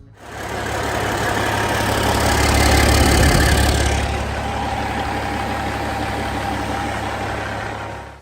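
Caterpillar 3406E electronically controlled diesel truck engine running steadily, a loud, rough low rumble with a brief swell in the middle.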